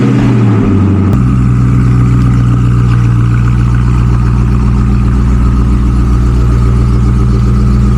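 Loud car engine running steadily close by as the car backs out, with a brief shift in tone near the start and then a constant low hum.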